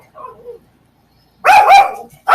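A pet dog named Mr. Prince barks indoors in a quick loud burst of several yips and barks, followed by another bark starting at the end, after a short soft whimper earlier.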